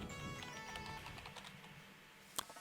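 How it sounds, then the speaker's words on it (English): Typing a username on a computer keyboard, a quick run of light, close key clicks ending with a sharper single tap, with music playing faintly underneath. "And then you're going to type in your username."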